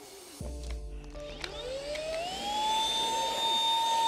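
Ultenic U10 cordless stick vacuum cleaner switching on and running, its motor whine climbing in pitch and settling into a steady, loud, close-up drone with no talking.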